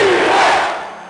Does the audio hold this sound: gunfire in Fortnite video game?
no